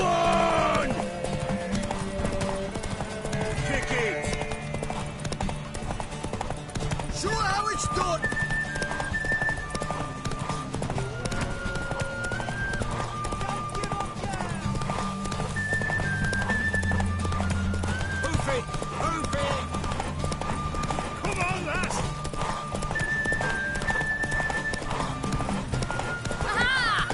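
A horse gallops in a race in the video game The Witcher 3 on PS5, with a steady rapid clip-clop of hooves throughout, under game music and voices talking.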